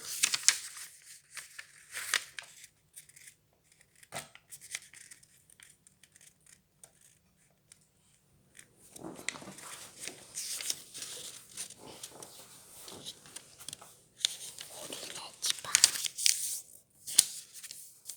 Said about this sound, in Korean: 먼저 네모로 접어줍니다